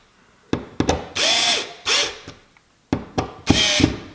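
A power drill drives a screw while a Ring Alarm 2nd Gen security kit is installed, running in short, close, loud bursts with clicking ratchet stops between them.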